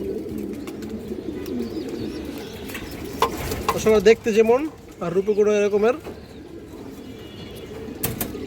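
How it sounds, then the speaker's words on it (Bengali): Domestic fancy pigeons at a seller's coop give a few deep, rolling coos in two clear bursts, close by, while someone talks over and around them. "জাস্ট অনেক সুন্দর একটা কবুতর"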